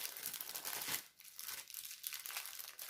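Crinkly plastic packaging being unwrapped from cross-stitch fabric, with close, loud crackling and rustling that stops briefly and then resumes in shorter bursts.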